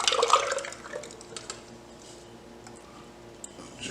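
Vanilla ice cream mixture poured into the drum of an ice cream maker, a close, wet liquid splash that is strongest at the start and then settles into softer trickling and dripping, with no talking.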